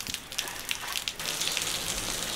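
Rain pours down steadily on a rural work area, a dense close hiss with scattered patter and drips across the surface and no voices.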